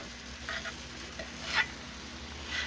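A lean roast loin seared fat side down in a pan gives a quiet, steady sizzle with a couple of brief louder flares and light scraping.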